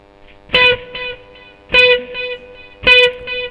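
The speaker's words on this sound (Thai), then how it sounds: "กับเสียงดีเลย์ที่ตามมาก็จะประมาณนี้" Electric guitar through a Mooer GE100 multi-effects unit with digital delay at low level, feedback and time settings, playing three loud strummed chords, each trailed by a few softer repeating echoes, with no talking.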